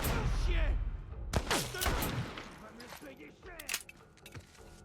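Gunfire in The Last of Us Part 1 comes as several sharp shots, with a quick burst near the start and more scattered cracks later, over someone talking casually in French.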